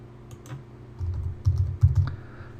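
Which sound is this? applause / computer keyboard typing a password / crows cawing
computer keyboard typing a password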